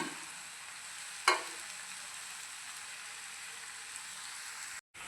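Ridge gourd chutney cooks in a pan with curry leaves, fresh coriander and tamarind, giving a soft steady sizzle after one sharp stirring clatter near the start, fairly quiet and close.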